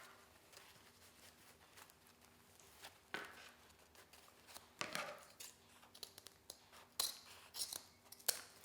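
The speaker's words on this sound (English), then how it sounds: "I'm going to go ahead and cut my other 2 ribbons the same way." Scissors snip through craft ribbon, several short separate cuts spaced out over a quiet background, close and fairly soft.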